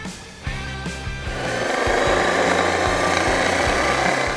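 A power drill whirs steadily after a few brief starts, spinning a weight as a gyroscope, its motor humming loudly with a rhythmic grinding undertone.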